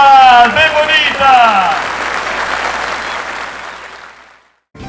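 Crowd applause at a religious celebration for Our Lady of Nazaré, dense clapping beginning under a shouted voice and fading away to near silence.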